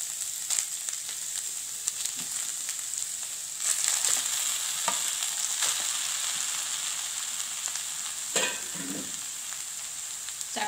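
Grated tuber is stirred into fried coconut in a pan, giving a steady sizzle with occasional scraping stirs and light clinks, close and alone without talk.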